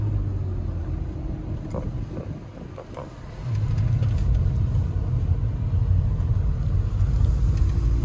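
A car engine held at about 5,000 RPM in third gear, a loud steady low drone that briefly dips and then surges back stronger, with faint cabin rattles and no talking.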